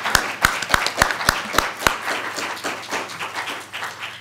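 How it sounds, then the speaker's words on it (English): A small audience applauds candidates for Lackawanna County office at a 2013 Democratic primary event: several loud, evenly spaced claps ring out near at first, then a dense patter of clapping carries on and slowly eases off. "How about a round of applause for all of our candidates?"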